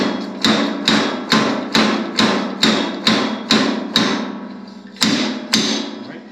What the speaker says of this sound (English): So what we're going to do is tap this down to get our bushing in place.